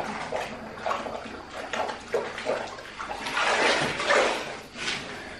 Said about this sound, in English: I rinse the sponge out.